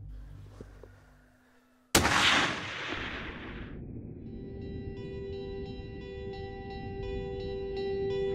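A single long-range rifle shot while hunting in Sudan: one sharp, loud crack that decays into a rolling echo. A steady tonal hum continues afterward.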